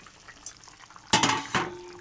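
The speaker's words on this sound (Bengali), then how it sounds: "এবার আমি এক এক করে বড়াগুলো ছাড়বো" Soybean fritters are dropped one at a time into a pot of boiling gravy, making two sharp splashing plops close by after a soft bubbling lead-in, each followed by a brief wet sizzle.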